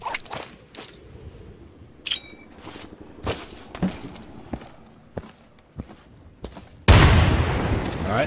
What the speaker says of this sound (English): Yeah, throw a frag in there.